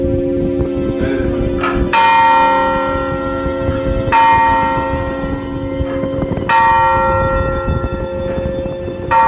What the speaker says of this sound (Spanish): Estamos viendo son las dos campanas que tiene la iglesia, son totalmente de bronce